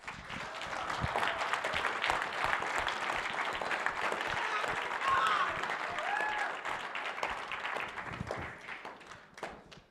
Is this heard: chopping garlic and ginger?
no